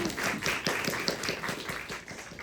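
Audience clapping at a short-film screening and director Q&A, a dense continuous patter of many hands at moderate level throughout, without voices.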